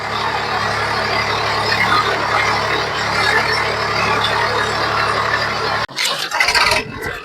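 A tractor engine working hard in a cotton field, a loud steady low rumble with a rough mechanical hum throughout, shifting to a choppier, uneven roar near the end.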